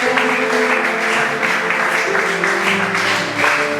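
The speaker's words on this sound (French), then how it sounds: "Est-ce que vous pouvez acclamer le Saint-Esprit?" A church congregation applauds loudly and steadily, the clapping sustained for a few seconds, with musical tones held underneath.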